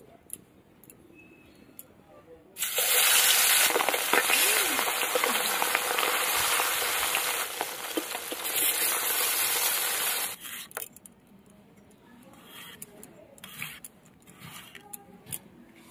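Bhola fish coated in salt and turmeric sizzles loudly in hot mustard oil in a wok, a dense hissing spatter that starts abruptly, holds steady for about eight seconds, then drops away to faint crackles and ticks.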